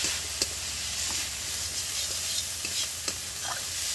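Frying masala sizzles steadily in a pan after sesame-rinsing water is added, with a continuous hiss and occasional clicks and scrapes of a spoon stirring.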